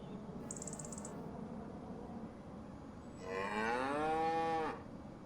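A dairy cow in Farming Simulator 25 lets out one long, loud moo near the end, after a brief high chirp earlier, over a low background hum with no talking.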